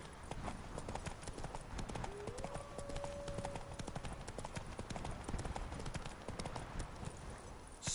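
Hooves of Roach, the horse in The Witcher video game, clip-clop at a steady walking rhythm, close and continuous, with a brief whinny-like tone partway through.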